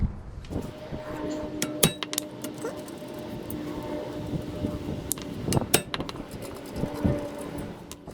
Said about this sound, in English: So I'm going to be using my impact screwdriver.